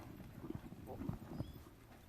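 A horse loping around a ranch sorting pen, soft, irregular hoofbeats on dirt heard faintly and somewhat distant.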